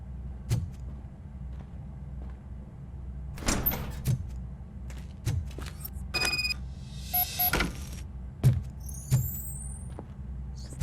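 A door is opened in the RoboCop: Rogue City video game, heard as a few mechanical clicks and short whirring or sliding bursts over a low, steady game ambience, with no voices.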